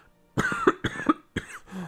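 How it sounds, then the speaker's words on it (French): Three harsh coughs from a sick man in quick succession, close and loud, separated by short pauses. "ne soyez pas surpris si je tousse partout"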